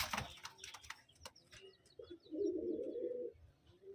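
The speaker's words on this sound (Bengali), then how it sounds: "এটা হচ্ছে নর পায়রা, এটা মাদি পায়রা, এটা একটা পেয়ার" A male and female pigeon pair coo nearby: soft chirps first, then a sustained, rolling coo, with light rustling and faint clicks around them.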